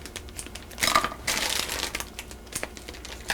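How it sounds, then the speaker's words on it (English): Scissors snip open plastic bags of frozen chicken, corn and peas to vent steam, giving short bursts of crinkling plastic close by with brief sharp snips. "I'm going to snip each bag so that I can vent steam."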